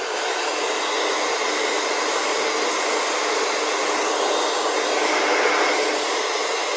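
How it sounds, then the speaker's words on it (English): A blow dryer drying wet paint on a painting runs in a steady, loud, continuous airy whoosh for the whole stretch, with no talking. "Let me take my blow dryer and"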